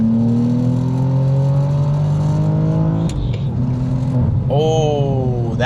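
A manual BMW M2 pulling hard in third gear, the engine note climbing steadily and loud from inside the cabin, then a brief dip at the shift before revving up again.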